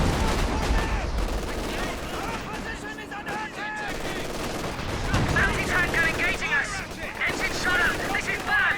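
Rapid machine gun bursts and scattered gunfire from a Company of Heroes 2 2v2 battle, dense and continuous with explosions mixed in, under steady commentary voice throughout.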